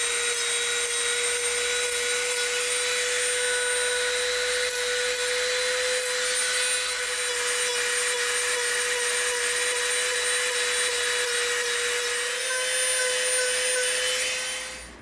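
A rotary tool fitted with a very coarse bit grinds along the torn edge of an EVA foam bison axe, a steady high-pitched whine running unbroken and close for the whole stretch.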